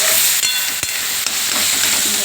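Onion frying in oil in a pan for a Marathi chana farasbi bhaji, a steady loud sizzle with faint stirring scrapes throughout.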